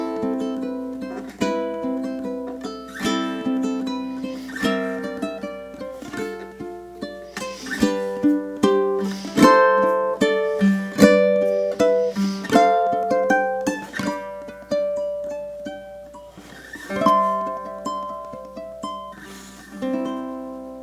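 Fingerpicked ukulele melody with expressive dynamics and tempo shifts, including a held pause and a quick burst of speed toward the end, played close and alone for about twenty seconds.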